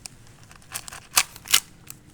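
Scissors snip through ingredients while seblak is being prepared, a few sharp close cuts in quick succession, the loudest two near the middle, with no talking.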